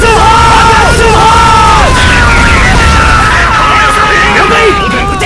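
Battle in the video game Armored Core 6, a loud continuous din of booms, bursts and sweeping tones with shouted voices mixed through it, dense and unbroken throughout.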